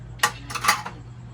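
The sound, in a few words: washing dishes, plates and cutlery clinking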